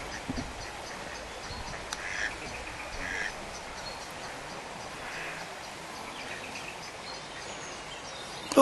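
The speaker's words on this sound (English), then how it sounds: "she's got white ducks and brown ducks there." Faint white and brown ducks and ducklings quack a few scattered times against a steady outdoor background hiss in the Peak District countryside at Dovedale, sounding somewhat distant.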